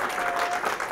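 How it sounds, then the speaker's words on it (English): A short burst of dense audience applause fills a social media brunch event, many hands clapping together at close range with no voices over it. "large round of applause for Tiffany Tay behind the magic here"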